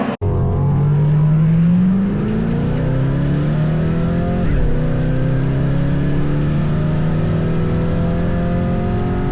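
A 1979 El Camino accelerates down a drag strip, its loud engine roar climbing steadily in pitch for several seconds with a brief dip midway, then holding a sustained high drone, heard from close by.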